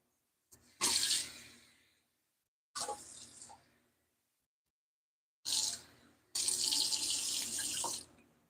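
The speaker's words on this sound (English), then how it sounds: "Let me add water to it." Tap water runs into a cooking pan in several bursts, each a loud, close gush that stops abruptly, with a longer final pour and short silent gaps between.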